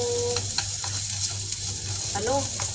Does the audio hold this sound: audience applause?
no